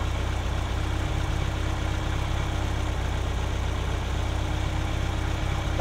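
A Ferrari engine with K-Jetronic fuel injection idles steadily nearby, a low, even rumble with a faint fluttering pulse and no break for the whole stretch.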